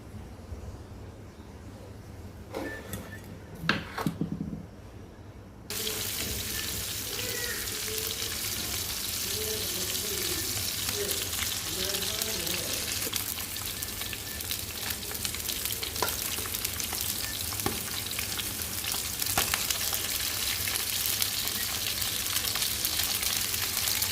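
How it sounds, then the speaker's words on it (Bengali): Pabda fish frying in a pan of hot oil, a dense continuous sizzle that starts abruptly after a few seconds of quieter kitchen clatter and stays fairly steady, with a few sharp pops and crackles. "বাকিগুলো ভেজে উঠিয়ে নিয়েছি এখন পাবদা মাছগুলো ভাজবো"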